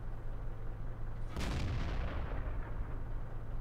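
Tog II tank main gun firing in World of Tanks, a single loud booming shot that bursts out and decays over a constant engine rumble, with no talk.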